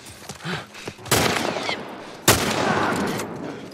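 Two sharp gunshots blast in a firefight in The Last of Us Part 1, about a second apart, each followed by a loud, rumbling decay.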